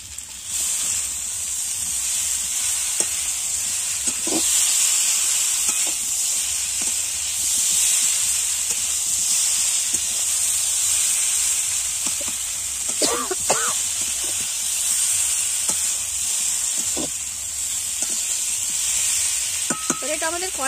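Raw jackfruit sautéed in hot oil in a pan, with a loud, steady sizzle and hiss running throughout. Occasional spatula scrapes and clicks cut through, close by, and no one speaks.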